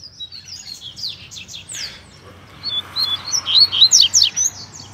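A free-flying coleiro, or double-collared seedeater, sings in bright, rapid chirps and sharp whistled phrases, sparse at first and then building into a louder, denser burst of song over low background hum.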